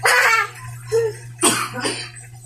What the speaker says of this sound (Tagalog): Ayay ka, sakupan ka ng ubo.